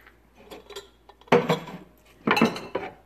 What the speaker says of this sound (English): Okay, I'm showing you all my dishes now.